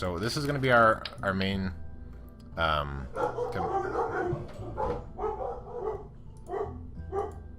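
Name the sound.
dogs barking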